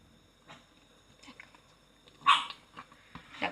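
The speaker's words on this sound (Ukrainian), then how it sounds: "це моя собака" A single short dog bark rises out of a quiet room, with faint shuffling and small noises around it.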